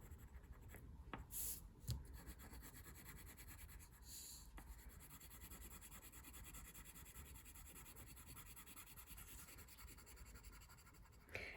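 Quiet, continuous scratchy scribbling on paper as colour is filled into a sunflower drawing, with the strokes rubbing back and forth steadily and close by.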